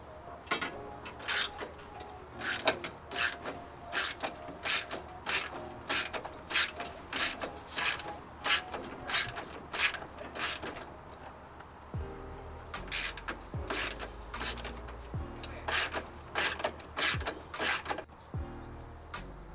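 A ratchet backing out a 10mm bolt on the front end of a Tacoma, a rapid run of close, crisp clicking strokes, a short pause, then more clicking bursts with a few low clunks, no talk.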